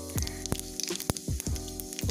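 Panch phoron spices hit hot oil in a kadai over a gas stove, giving a short, close sizzle broken by sharp crackling pops.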